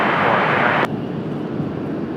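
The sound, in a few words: business jets at Washington Dulles airport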